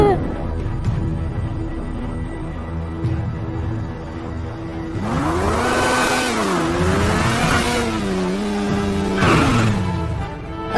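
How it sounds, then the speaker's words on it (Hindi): A motorbike engine rises in the second half, revving and shifting pitch as it rolls in to park, loud and close, after a quieter first half with low rumble and faint background noise. "अरे चुपचाप से बाइक लगा देता हूँ यार"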